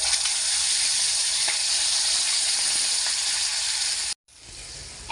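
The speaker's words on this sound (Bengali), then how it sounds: "এখন আমি টক দইয়ের সাথে গুঁড়ো মশলা দিয়ে ম্যারিনেট করা পেস্টটা দিয়ে দিচ্ছি।" A yogurt and ground-spice marinade paste hits hot oil in a pan for paneer, giving a loud, steady hiss of frying that runs unbroken for about four seconds, cuts out briefly, then resumes more quietly.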